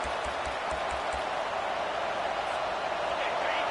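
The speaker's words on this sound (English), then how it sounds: "Decibels rising as the crowd gets behind this defense on 3rd down." Stadium crowd noise at a Wisconsin at Stanford college football game, a broad steady roar building behind the defense on third down, loud and continuous throughout.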